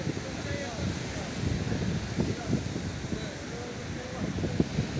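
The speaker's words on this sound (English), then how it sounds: "it's getting windy" Gusty wind buffets the microphone over a low background rumble on a beach walkway in Bordj El Kiffan, Algiers, with irregular thumps and rustles and no clear talking.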